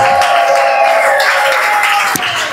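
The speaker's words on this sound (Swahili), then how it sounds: "mshangilie Bwana kwa vigelegele na makofi" A church congregation at a Swahili-language FPCT worship service raises high, wavering ululation over a steady wash of crowd noise and clapping, loud and close throughout.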